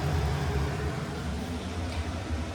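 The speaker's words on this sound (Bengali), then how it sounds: "চিমনি চলছে না চিমনির আওয়াজ হয়তো" A kitchen chimney exhaust hood runs with a steady, even whooshing drone and a low hum underneath, unchanging throughout.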